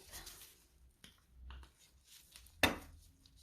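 Watercolour paint containers are opened with faint scrapes and light taps, followed by one sharp click as a lid pops open near the end. The sound is close and quiet, with no talking.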